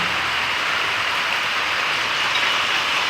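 Rain drums on a tin-sheet shed as a dense, steady hiss of many drops hitting the metal roof, continuous and fairly loud, with no voices.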